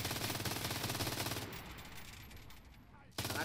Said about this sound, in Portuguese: Caraca, tanto tiro passando em mim